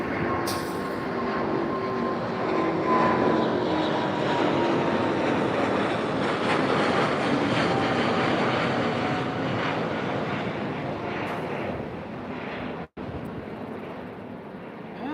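An Airbus A350 jet airliner's engines roar steadily with a broad rushing noise and faint whine, loud and sustained, then cut off abruptly near the end.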